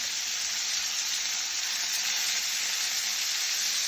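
Pork chops sizzling in a hot pan over medium-high heat just after being flipped: a steady, even hiss of frying fat runs unbroken throughout, close and moderately loud, with no voices.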